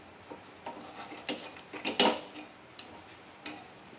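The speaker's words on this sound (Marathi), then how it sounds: "हे सर्व आप्पे आपण आता" Mini cakes are flipped in an appe pan, giving a series of light metallic clicks and taps spread irregularly, with a cluster of louder scraping clinks in the middle, close and fairly quiet.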